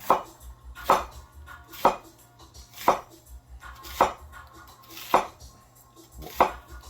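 Knife strokes from a Coolina Serbian cleaver and a Dao Vua 210mm tall gyuto cut through food on a board, about seven sharp chopping thuds at a steady, roughly one-per-second rhythm, close and clear with no talk.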